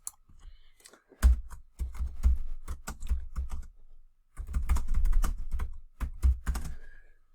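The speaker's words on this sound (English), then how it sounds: "We can just type in our new text right there." Bursts of close, fast keystrokes typing text on a computer keyboard, with short pauses between runs of clicking keys and no talking.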